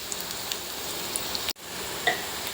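Garlic pieces and onions sizzle steadily in hot oil in a pan, a soft continuous crackle with a brief interruption midway and a few sharper pops afterward.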